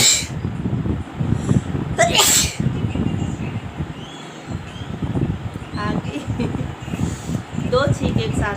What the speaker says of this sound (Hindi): दो छींक एक साथ आई है ना।